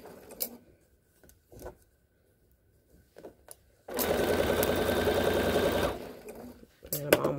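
A sewing machine stitches fabric in one loud, steady two-second run, preceded by scattered quiet handling clicks and followed by a few more.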